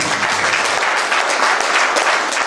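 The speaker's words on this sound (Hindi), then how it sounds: "एक जोरदार तालियां बजाएं आपके लिए।" Loud, dense applause from a large crowd at a public gathering, a continuous roar of many hands clapping close and full throughout.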